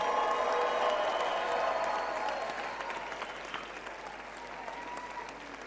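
A church congregation in Cape Town applauds, loud and dense at first, then gradually thinning and fading into lighter scattered clapping with some crowd murmur.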